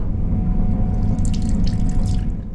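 Water runs steadily from a tap into a sink in a train toilet, a constant close splashing hiss with no talking.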